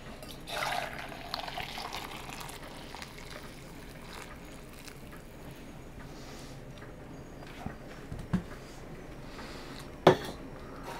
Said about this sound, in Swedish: Så jag häller upp då 1 liter i en tillbringare.